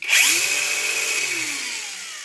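A Parkside Performance 20V cordless angle grinder spins up sharply and runs with a loud, steady high-pitched whine, its tone shifting slightly as it settles.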